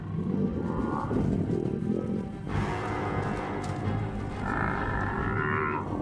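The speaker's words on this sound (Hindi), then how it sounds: "100 में से 90 बार तो यही होता है कि जंगली भैंसे शेरों पर जवाबी हमला करके उन्हें खदेड़ देते हैं।" A herd of wild buffalo lows and bellows in the African bush, deep overlapping moos that are loud and close, with a sharper, brighter call rising partway through.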